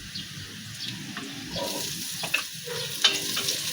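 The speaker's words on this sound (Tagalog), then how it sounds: "Kailangan natin imikos-mikos natin ang ating sibuyas" Onions sauté in a pan for tinulang isda, a low, soft sizzle with a few sharp spoon scrapes against the metal, close but fairly quiet.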